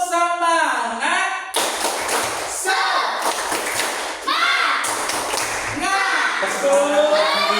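A school class claps a rhythmic spirit chant together, sharp group claps in patterned bursts mixed with children's chanting voices in a classroom.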